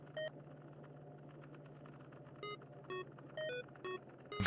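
Beeping during a Factorio game stream, a series of short high electronic tones in irregular bursts over a low steady hum, faint and alone.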